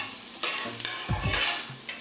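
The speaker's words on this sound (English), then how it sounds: "I'm just gonna mix that all together. Let it saute." Vegetables for vegan jerk sautéing in a hot pan, a close sizzle with a few quick scraping stirs across the pan in a short burst.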